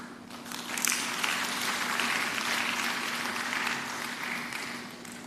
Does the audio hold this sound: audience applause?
yes